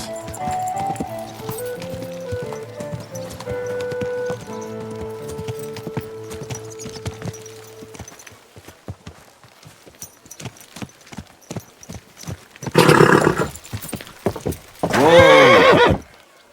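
Horse in the video game Kingdom Come: Deliverance II, with steady clip-clop of hooves under background music, then two loud, close neighs near the end.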